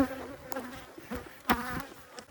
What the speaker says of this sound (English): I've got probably 50 bees on me.